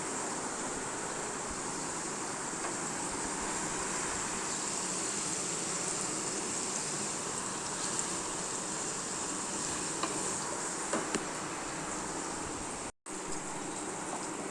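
Chopped chillies frying with vegetables in a pan give a steady, even sizzle that continues without a break, with a few faint clicks and a brief drop-out near the end.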